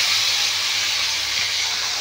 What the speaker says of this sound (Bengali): এই দেখুন টমেটোটা দিয়ে দেবো। একটা হালকা করে ভেজে নেব